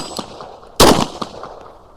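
A single sharp pistol shot from a handgun built on a Timberwolf frame with a rail and compact grip, loud and close, with a quick echo trailing off, then faint background noise.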